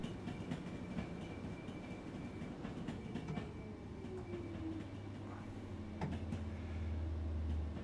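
Simulated train running on rails in Train Sim World 3 on the East Coastway route, a steady rumble with rhythmic clicks of wheels over track joints, continuous and fairly close throughout.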